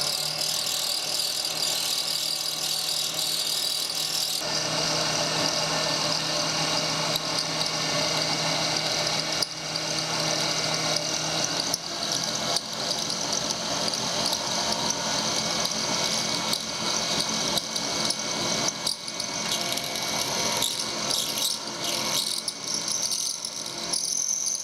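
Carbide milling cutter spinning at 3,500 RPM while cutting a keyway in steel for a steam locomotive part, a steady high-pitched machining whine with dense hiss that continues unbroken and loud throughout.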